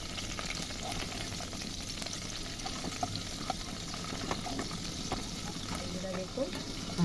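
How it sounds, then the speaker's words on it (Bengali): Tangra fish and cut taro frying together in hot oil, a steady, dense sizzle with faint stirring clatter running throughout. "এবার আমি বন্ধুরা কেটে রাখা কচুগুলো এই তেলের মধ্যেই দিয়ে দেব। এদিকে মাছও আমার এক পিঠ ভাজা হয়ে গেছে।"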